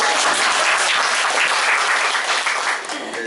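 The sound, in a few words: applause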